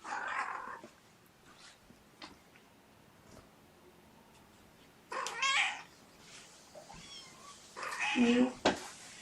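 Small kittens mewing in short, high bursts near the microphone, with a quieter stretch between and a person talking softly over parts of it.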